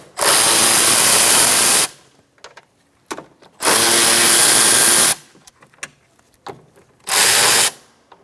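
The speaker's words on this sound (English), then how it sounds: "Remove the 4 bolts for your speaker using a 7mm socket." A power tool with a 7mm socket backs out speaker bolts on a 2007-2017 Ford Expedition door, in three loud, steady whirring bursts of about a second and a half each, with faint clicks and handling noises in the gaps.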